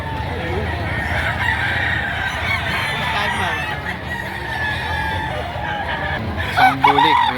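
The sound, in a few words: bulik fighting rooster crowing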